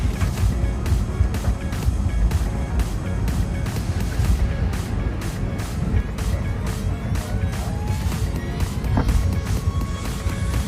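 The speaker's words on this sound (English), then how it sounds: "soon we were taxiing out to the runway for an on-time departure from Madrid" Iberia airliner taxiing to the runway at Madrid, a steady low engine rumble with road-like cabin noise running continuously throughout, near and moderately loud with no voices.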